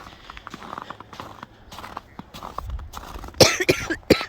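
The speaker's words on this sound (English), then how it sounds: "as soon as I come out, I start coughing" Several sharp, close coughs burst out near the end, after quieter shuffling footsteps and rustling outdoors on a homestead in winter with frozen pipes.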